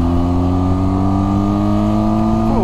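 A Benelli TRK 502 X adventure motorcycle engine pulls steadily in third gear at around 4,000 revs, a loud, continuous buzzy drone with rising harmonics near the end.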